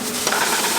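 Kimchi fried rice with added kimchi is tossed and stir-fried in a hot pan, a brief loud burst of sizzling and scraping rustle.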